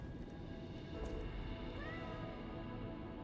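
A cat meows in the video game Lies of P: a single short, faint meow rises briefly over a steady bed of game ambience and background music.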